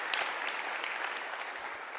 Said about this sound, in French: Je vous demande vraiment d'applaudir